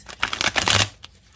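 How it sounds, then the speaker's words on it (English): A pastel tarot card deck is riffled in one quick, close shuffle, a dense rush of papery flutter lasting under a second and then settling. "this is a really pretty pastel deck. So let's give it a good shuffle"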